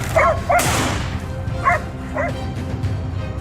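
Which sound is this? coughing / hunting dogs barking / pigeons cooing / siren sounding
hunting dogs barking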